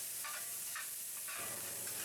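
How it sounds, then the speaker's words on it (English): Onions fry in a cast iron pan with a soft steady sizzle, broken by a few brief scraping stirs, quiet and close. "We start by frying the onions until they're tender"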